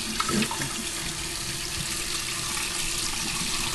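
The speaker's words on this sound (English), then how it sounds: "Let me rinse out this bowl." Tap water runs steadily into a bowl being rinsed in a kitchen sink, a loud close rushing splash that holds constant throughout with no speech.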